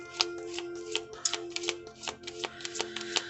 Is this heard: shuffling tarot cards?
yes